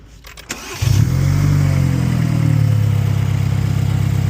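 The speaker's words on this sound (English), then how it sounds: "Would you start the car?" A car engine cranks briefly, catches with a loud roar, then settles into a steady, loud idle close by.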